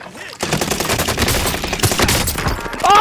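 Rapid bursts of heavy gunfire from mounted guns in a multiplayer shooter video game, loud and continuous over about three seconds, with brief excited voices at the edges.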